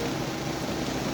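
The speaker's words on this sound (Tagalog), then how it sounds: "Umuulan pala dito." Steady, dense rain hiss from the Minecraft video game (Java edition), constant and even throughout, with no talking over it.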